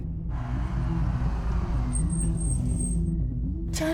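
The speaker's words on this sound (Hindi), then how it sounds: "एक सेकंड, गाड़ी साइड में लगा।" A car rumbles steadily with a low engine drone as it pulls over to the roadside, and a faint high whine runs briefly partway through.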